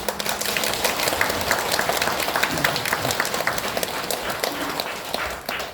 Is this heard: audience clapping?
yes